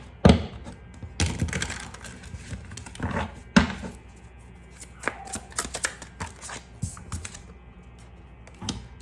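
Tarot cards are shuffled and riffled up close in several quick bursts, with soft papery flutters and taps separated by short pauses.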